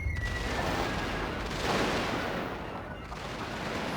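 Musket volleys and artillery fire from a Carlist Wars battle in a Total War game crackle and boom in a dense, continuous fusillade, loud and unbroken across the moment.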